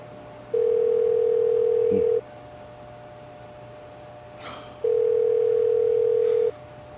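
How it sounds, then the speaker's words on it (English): A telephone ringback tone on an outgoing call sounds twice, each long steady beep about a second and a half, separated by a quiet pause over faint line hiss. "Let's call Gunnar."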